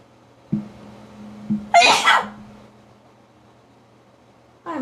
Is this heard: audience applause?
no